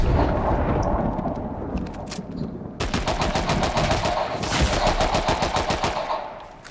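Gunfire in the video game Fortnite, with sniper fire among it: sustained rapid volleys of sharp shots rattling loud and close for several seconds, some pauses between bursts and rumbling blasts underneath.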